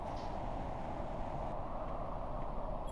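A howling storm in the survival video game Planet Crafter, heard as a steady, dense roar of wind-driven noise that holds evenly throughout without a break.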